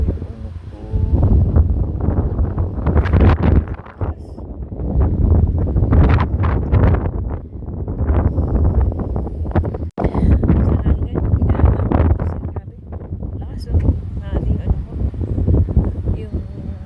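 Strong wind buffets the microphone in loud, roaring gusts that rise and drop repeatedly, with brief lulls between blasts.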